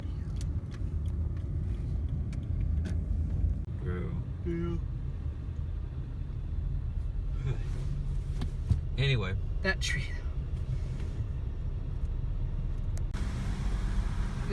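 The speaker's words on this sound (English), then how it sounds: "Look at this traffic." Passing road traffic hums and rumbles in the background, cars rolling by steadily while people talk over it, with a few sharper clicks and rattles mixed in.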